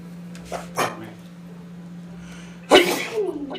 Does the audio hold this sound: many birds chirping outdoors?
no